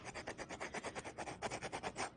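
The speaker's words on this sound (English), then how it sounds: "is just lightly sand the edge" A medium sanding block rubs along the edge of a polymer clay piece in quick, even back-and-forth strokes, a close, soft rasping scratch repeating about five or six times per second.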